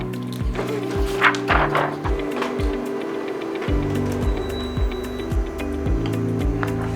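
A white toner printer runs off a transfer page in a steady mechanical rhythm, with repeated clunks and roller thumps over a continuous motor drone, close and moderately loud, with no voices.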